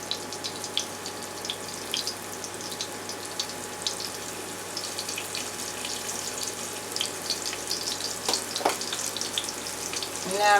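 Shrimp and scallops frying in hot oil for a fried seafood platter, a steady close crackling sizzle with dense popping spatters that swell slightly toward the end, with no talk.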